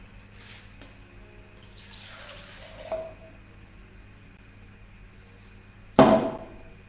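Water poured from a container into a bowl for mixing plaster in a papier-mâché workshop: a soft, quiet splash and trickle lasting about a second, then a short louder splash near the end, with no talking.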